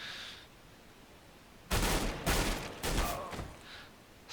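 Gunfire in a competitive video game match, with three loud bursts of shots in quick succession, each a sharp broadband crack with a short tail, set against a quiet background.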